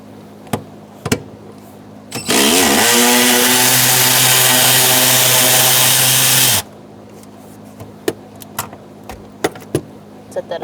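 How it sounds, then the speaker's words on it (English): A 12mm socket on a power ratchet backs a bolt out of a Kia Soul, a loud whirring buzz lasting about four seconds, framed by sharp metallic clicks and clanks of tools before and after. "Now we're going to use a 12mm socket and take out the bolt in the center."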